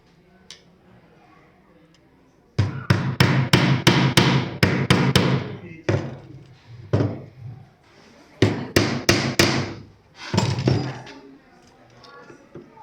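Sharp hammer blows drive nails into a wooden geoboard, coming in quick bursts of several strikes separated by short pauses, loud and close.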